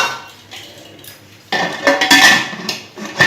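A metal pot is handled while a pressure cooker is loaded with washed banana flower, giving clanking and scraping metallic knocks: quieter at first, then a louder cluster of clinks and clatters close by.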